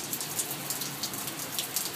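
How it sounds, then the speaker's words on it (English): Hail falls steadily during a storm in Tempe, Arizona, a dense hiss of small impacts with scattered sharper taps, continuous and fairly close, with no voices. "this is a little hail"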